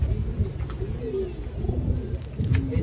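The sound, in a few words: pigeons cooing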